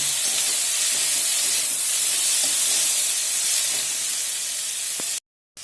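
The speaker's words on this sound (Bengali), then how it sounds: "এর মধ্যে পেঁয়াজ মানে টমেটোগুলোকে একটু হালকা ভেজে নেব" Onions and tomatoes fry lightly in a pan while cooking a South Indian uttapam dish, a loud, close, continuous sizzle and hiss that cuts off abruptly near the end.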